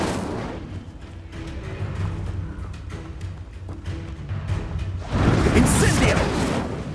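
Booming Incendio and Expulso spell blasts go off repeatedly in the video game Hogwarts Legacy, with thuds and whooshes that build to a louder burst near the end, while voices shout over the fight.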